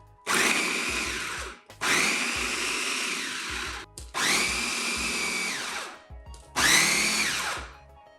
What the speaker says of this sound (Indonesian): bisa dihaluskan dengan menggunakan chopper andalan dari Mito Chiba. Oke, cacah hingga halus.